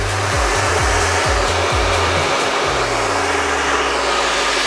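A hair dryer blows loud and steady throughout, its motor tone dropping and clicking through several quick setting switches before settling into a lower, continuous whir as it shifts from cool shot back to heat.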